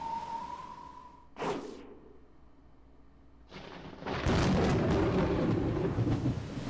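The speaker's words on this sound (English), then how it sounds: "Thunder roared, crying out against me for my outrageous act." A thunder sound effect: a brief rumbling crack, a quiet pause, then a loud, sustained roaring rumble of thunder that builds and rolls on to the end.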